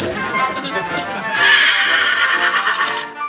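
A horse, Mr. Ed the talking horse on TV, whinnies loudly in one long, wavering neigh that swells midway and fades, with a faint clip-clop underneath.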